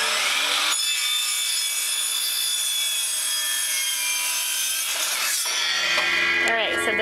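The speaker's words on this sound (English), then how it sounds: "he's cutting the 3-foot pieces with his sliding compound miter saw." A sliding compound miter saw cuts three-foot wood pieces for a fodder system build, a loud close whine that holds steady, then spins down and trails off with light clatter.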